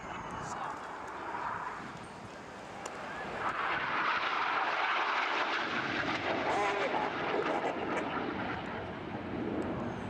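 Red Arrows RAF jets in a flying display at an air festival at Ragley Hall, their engines roaring as they pass over the display line and rising to a sustained loud rush of jet noise, with commentary heard alongside.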